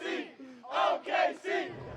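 Crowd at a basketball championship watch party for the OKC Thunder roaring and cheering in loud surging waves, with several swells of shouting voices rising and falling close by.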